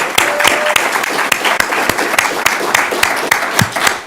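A school district audience applauds a grant award, close, loud clapping with distinct sharp hand claps standing out over a steady patter.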